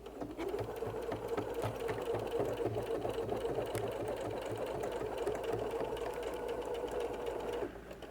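Sewing machine stitching fabric for a handmade tool belt, producing a fast, even mechanical chatter of needle strokes that runs steadily at moderate level before easing off near the end.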